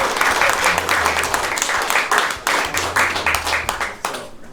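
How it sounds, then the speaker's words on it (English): A small audience claps loosely in response to a request, uneven scattered applause with a few voices mixed in, rising and fading in waves. "Can you clap? Can somebody clap for that?"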